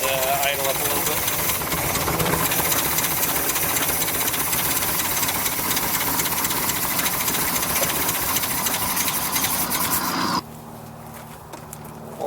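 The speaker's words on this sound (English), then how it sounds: "She's trying to idle on her own." A 1969 VW Baja Bug engine that had sat for 29 years idles roughly and steadily up close, without its electronic choke hooked up, then drops abruptly to a quieter, lower running note near the end.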